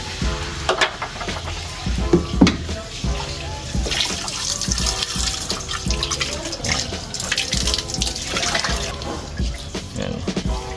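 Water runs and splashes steadily while a car interior is cleaned with a shampoo solution, with drips and trickles draining from the opened drain plug, fairly close and continuous throughout.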